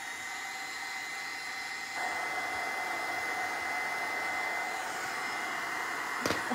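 A hair dryer blows steadily on freshly painted metal, a close, even whooshing hiss that rises a notch partway through and keeps running with no voices over it.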